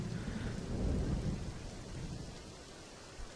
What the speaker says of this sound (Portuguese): enquanto a chuva cai sem nenhum esforço